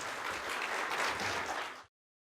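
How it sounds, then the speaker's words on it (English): Applause from the audience at a city candidate forum for school board candidates, a steady moderate wash of clapping that cuts off abruptly near the end. "Give a big round of applause to Amy Phillips."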